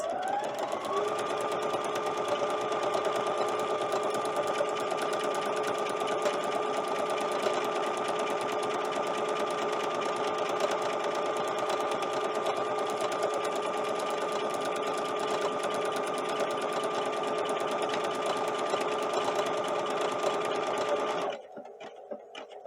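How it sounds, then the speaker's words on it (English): A Brother sewing machine runs steadily while stitching a buttonhole, a continuous close motor whir with a fast mechanical rhythm. It holds for about twenty seconds, then stops abruptly. "you'd be amazed at how easy it is to make a buttonhole. So I'm just going to go ahead and push this."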